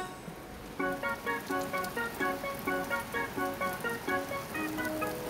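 Rain falls on an open field in an animated cartoon, heard as a steady patter with a bright, plinking musical pattern over it.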